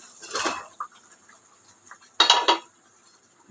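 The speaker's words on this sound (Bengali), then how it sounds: "এবার আমি এর মধ্যে এই যে ঢ্যাঁড়সগুলো দিয়ে দিচ্ছি" Okra tossed into a hot pan of fried spice paste for a Bengali okra-poppy dish, giving a couple of brief, clattering bursts of metal utensil against pan with quiet pauses between.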